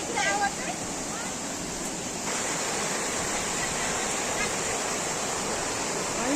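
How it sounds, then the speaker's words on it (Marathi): Koltembe waterfall near Bhandardara pours down in a continuous broadband roar, steady and moderately loud from a distance across the valley, with no talk over it. "इकडं समोर दिसतंय कोलटेंबे कोलटेंबे वॉटरफॉल"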